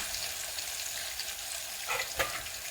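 Fish curry masala with turmeric, Agri Koli masala and garam masala stirred in a hot pan, a steady close sizzle and frying crackle with a couple of louder scraping stirs near the end.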